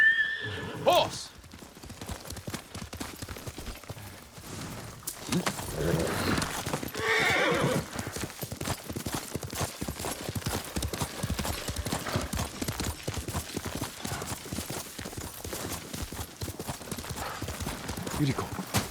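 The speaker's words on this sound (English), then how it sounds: "Horse!" A horse in the samurai game Ghost of Tsushima whinnies loudly at the start, then gallops in a rapid, steady clip-clop of hooves that continues, with voices speaking briefly over it.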